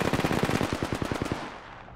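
Fortnite impulse grenade mimicking weapon fire: rapid bursts of machine-gun-like shots, about a dozen cracks in quick succession over a second and a half, then fading into a tail, no talking.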